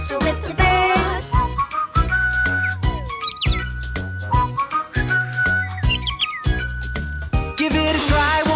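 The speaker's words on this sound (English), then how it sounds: "And we'll whistle with the birds." Cartoon whistling melody for a children's farm song, bright tonal whistled phrases mixed with bird-like chirps over a steady bouncy musical backing, loud and continuous with no talking.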